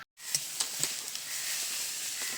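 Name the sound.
bottle gourd frying and being stirred in a pan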